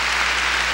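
A church congregation claps through a 1992 worship service, a brief burst of steady, even applause filling the space with no voice above it.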